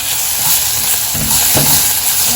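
Onions sautéing in a pan for a mochai (field bean) masala, a steady close sizzle and frying hiss with a couple of louder stirring scrapes partway through, no voices.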